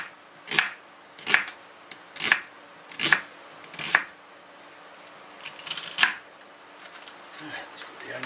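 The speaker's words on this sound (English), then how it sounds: "I'll quickly just cut this onion up over here" A knife chops an onion on a cutting board during a spaghetti bolognese cook: six crisp, evenly spaced thuds close up, followed by a looser flurry of cuts and faint scraping at the end.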